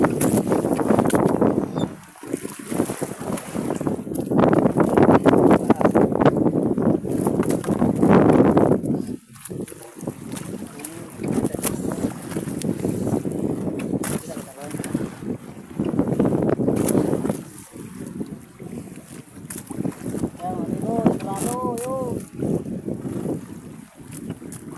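Strong north wind blowing across a fishing boat at sea while trolling for dorado, a steady loud rush of wind noise buffeting the microphone for the whole stretch, with brief dips and faint distant voices.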